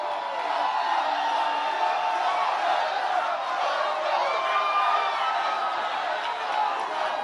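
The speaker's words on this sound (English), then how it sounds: "What a crowd." Packed indoor crowd at a Donald Trump campaign rally in Green Bay, Wisconsin, cheering and whooping continuously at a steady level, a dense roar with voices blending together.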